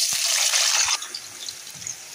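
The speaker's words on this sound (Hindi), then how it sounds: "अब हम इसमें आलू फ्राई कर लेंगे" Potatoes hit hot oil in a kadhai and set off a sharp burst of bright sizzling that eases after about a second into a softer, steady frying hiss.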